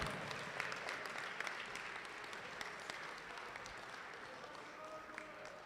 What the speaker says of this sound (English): how about another big round of applause for all three of our girls basketball seniors